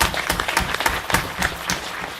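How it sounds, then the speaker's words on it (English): A conference crowd applauds steadily, many hands clapping in a dense, sustained patter with no voices on top. "A big round of applause for them."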